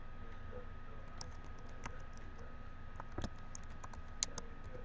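Scattered keystrokes on a computer keyboard tap out a short burst of typing, fairly faint and close, over a steady low room hum with no voices.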